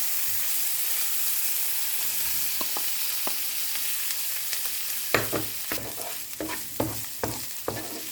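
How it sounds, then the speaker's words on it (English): Luncheon meat and corn frying in a pan with leftover rice being prepared, a steady sizzle under repeated scraping stirs that grow louder and more rhythmic toward the end; no talking. "Now add the luncheon meat and continue on stirring."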